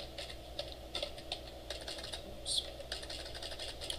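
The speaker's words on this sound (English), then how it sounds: "now, I go in my browser and I type in localhost" Keys clatter on a computer keyboard in a classroom during a web development lecture, a run of light, irregular taps close by over a low steady hum.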